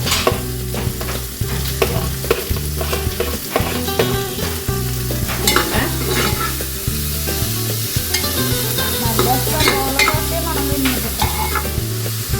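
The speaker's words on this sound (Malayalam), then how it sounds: "സവാള ഇങ്ങനെ കനം കുറച്ച് കഴിഞ്ഞാൽ നമുക്ക് ഇങ്ങനെ വാട്ടിയെടുക്കാം" Thinly sliced onions sauté in a pan, giving a loud, continuous close sizzle with frequent stirring scrapes and light clinks running under it.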